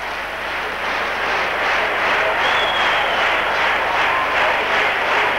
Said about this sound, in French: Très sportivement, l'Espagne applaudit.